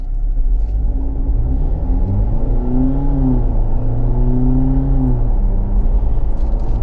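Steady low engine rumble from a 2024 Jeep Wrangler Rubicon 4xe hybrid SUV cruising on a road, with a rising and falling drone as it accelerates, continuous and fairly loud.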